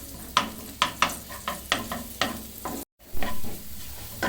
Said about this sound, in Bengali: রসুন কুচিটা কিছুক্ষণ ভেজে নিতে হবে হালকা ব্রাউনিশ হওয়ার পর্যন্ত